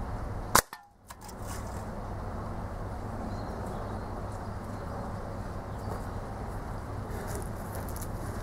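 A single sharp crack as an air rifle pellet strikes an egg early on, followed by a brief burst of egg debris, then steady low background noise for the rest.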